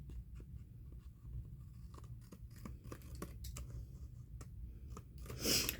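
Repeated short snipping and scraping sounds of scissors cutting paper, close and fairly quiet, scattered irregularly over a low steady background hum, with a brief louder rustle near the end.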